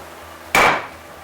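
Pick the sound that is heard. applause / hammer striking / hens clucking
hammer striking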